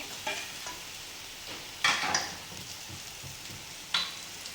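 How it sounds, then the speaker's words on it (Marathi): Chili paste and mixed ingredients sautéing in oil for Kolhapur-style batata vada filling, a soft sizzle broken by a few louder scraping stirs of a spoon against the pan, close and steady with no talk. "हे सगळं साहित्य आपण एक अर्धा मिनिटच छान परतून घेऊया"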